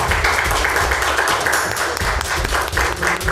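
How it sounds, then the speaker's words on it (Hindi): Loud, dense applause from an audience at a sports event prize ceremony, a continuous wash of clapping. "इसके लिए भरपूर तालियां हैं"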